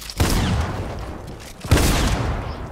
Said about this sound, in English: They have Midas's drum gun.